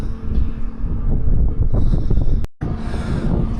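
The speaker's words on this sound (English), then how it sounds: "It's pretty windy." Strong wind buffets a microphone outdoors at the Aviodrome aviation museum, a loud, constant rumbling roar with a brief dropout near the end.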